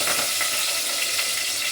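Cumin, garlic, curry leaves, coriander and a pinch of turmeric hitting hot oil in a tempering, a loud, dense, continuous sizzle heard close up with no talking.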